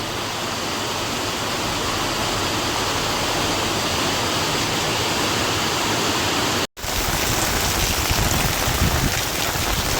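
Steady, dense monsoon rain falls as a loud, continuous hiss with a brief cut partway through, then the downpour continues unchanged.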